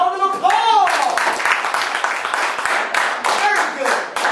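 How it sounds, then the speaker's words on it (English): A classroom group gives a round of applause, scattered hands clapping at close range while students' voices and chatter rise over and between the claps. "All right, Storm Group 3, a round of applause."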